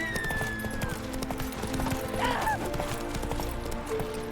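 Roach, the horse in The Witcher 3, galloping with steady clip-clop hoofbeats under busy game music and ambience, with a brief whinny-like cry midway.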